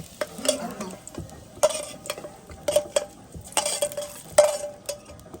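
Small potatoes and spices frying in a pan, a low sizzle broken by repeated sharp clinks and scrapes of a utensil stirring against the metal at an uneven rhythm.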